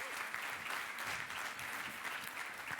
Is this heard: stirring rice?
no